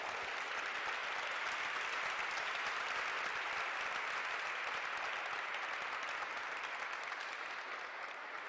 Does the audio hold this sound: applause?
yes